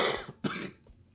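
A man coughing close to the microphone during a live stream, two harsh bursts, the second sharper, with a short throat-clearing sound after.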